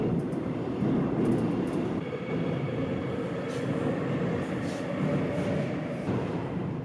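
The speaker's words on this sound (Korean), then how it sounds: "지하철 내의 소음은 70에서 80dB 사이인데요." Rumbling interior noise of a moving subway train, a loud, continuous low roar of wheels and carriage with faint squeals and rattles riding over it.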